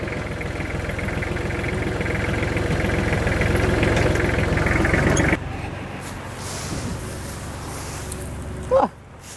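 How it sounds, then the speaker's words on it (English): A leaf vacuum's engine runs loudly with a whirring grinding drone as it mulches leaves through the hose, then cuts to a quieter idle with a brief clunk near the end. "It's a little like grinding wheel that mulches all the leaves as they're drawn in through the hose."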